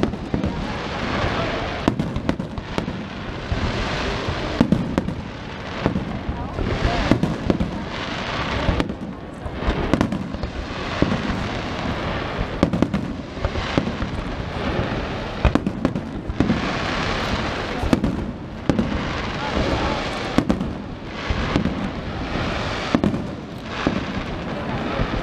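Fireworks at the Redentore festival in Venice in 2015 boom and crackle in a steady, dense barrage of bursts for the whole stretch, loud and close, with a crowd murmuring underneath.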